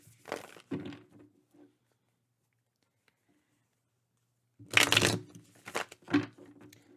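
Two short bursts of crisp card shuffling, close by, separated by a few seconds of near silence.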